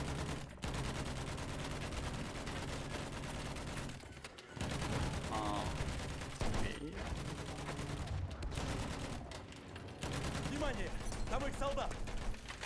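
Battlefield 1 battle gunfire, dense and continuous shooting with rattling bursts and distant blasts, heard faint under voices talking.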